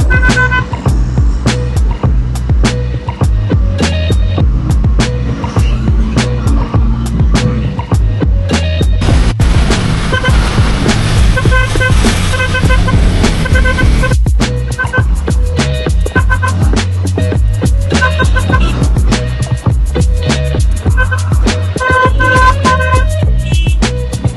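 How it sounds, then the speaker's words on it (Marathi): Dense road traffic on a ghat route, car and truck engines rumbling nearby with repeated horn toots scattered throughout, a steady loud wash of vehicles passing close. "जबरदस्त ट्रॅफिक आहे यार, खतरनाक ट्रॅफिक"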